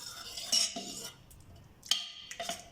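A metal ladle clinks and scrapes in a pot as cooked lentils are mashed, several sharp taps and scrapes separated by quieter pauses, close and clear with no talk.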